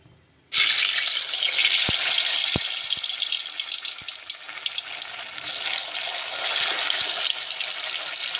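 Mung puli dumplings dropped into hot oil in a kadai start a sudden loud, steady sizzle that continues without a break, with a few faint clicks and knocks from the pan underneath.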